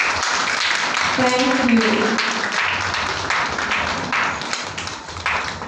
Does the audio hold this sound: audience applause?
yes